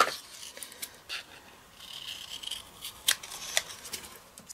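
Scissors fussy cutting around small paper bicycle images for a handmade card, a series of quiet close snips and crisp slicing rasps in irregular strokes, alone without talk.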